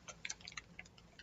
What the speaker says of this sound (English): It's ticking.